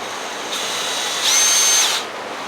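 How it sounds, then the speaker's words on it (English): A power driver runs a screw with a small washer into a wooden rake handle, a steady whine that rises in pitch and loudness briefly near the end before stopping. "I'm going to be installing this screw with the small washer in it."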